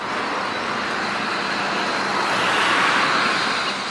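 A toy bus plays a steady recorded engine and road-traffic rumble, loud and continuous for a few seconds with no break.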